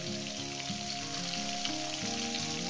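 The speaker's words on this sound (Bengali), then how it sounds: "কচুটা আলুটা সুন্দর করে আমি ভেজে নেব" Pieces of taro and potato sizzle in a pan of oil for a vegetarian chorchori, a steady close crackling hiss alongside a low steady background hum, with no voices.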